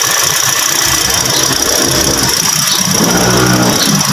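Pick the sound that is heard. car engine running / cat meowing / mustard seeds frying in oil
car engine running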